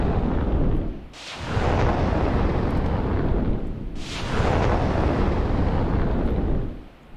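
Missiles from Russian surface-to-air systems detonating in a video game, two loud booming blasts each followed by a sustained rumbling roar, close and heavy.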